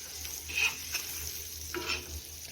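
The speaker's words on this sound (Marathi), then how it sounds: "मस्त असा आपला इथं मासा फ्राय होतोय तेलामध्ये" Fish frying in oil on a hot griddle, a steady soft sizzle with a low hum beneath and a couple of brief scraping stirs, close and fairly quiet with no talking.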